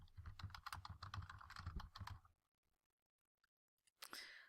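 Fingers type on a computer keyboard in a quick, dense run of close clicks for about two seconds, then stop. After a near-silent pause, a short final burst of keystrokes follows.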